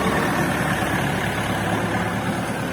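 A KENTAVR 404S tractor engine idles steadily nearby, a continuous low rumble with a dense, even texture and no talk over it.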